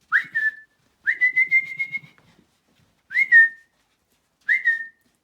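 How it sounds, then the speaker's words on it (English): A person whistles to an elderly beagle in four separate bursts: short rising-then-level whistles, one longer sustained note, then two more short calls. Each is clear and fairly close, with quiet gaps between them and faint low noises under the second burst. "he doesn't understand where the whistling is coming from"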